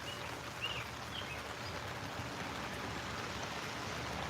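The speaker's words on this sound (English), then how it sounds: "When will the rain end?" Rain patters onto an outdoor swimming pool in a soft, continuous wash of droplets, with a few faint chirps high above the steady hiss and no talking.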